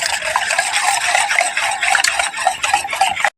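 Busy scraping and clinking of a utensil stirring egg gravy in a pan, continuous and close, with quick irregular taps throughout.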